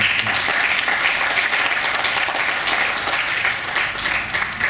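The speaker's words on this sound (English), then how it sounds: "Give him a round of applause." Conference audience applauding after a speaker introduces a Jamaican ganja product developer, steady dense clapping that stays loud and even throughout with no speech over it.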